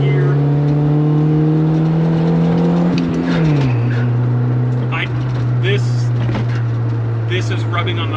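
EF hatchback engine holding around 4,000 RPM in second gear, a steady loud in-cabin drone with a brief dip in pitch midway, mixed with road and tire noise while someone talks over it.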